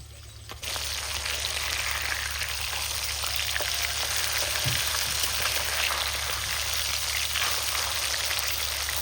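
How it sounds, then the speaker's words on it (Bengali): Pabda fish frying in a pan of hot oil, with a steady, dense sizzle and splattering that starts abruptly and continues loud and close without pause. "দেওয়ার সাথে সাথে তেল ছিটে দেখো কি অবস্থা চারিদিকে তেল ছড়াই গেছে"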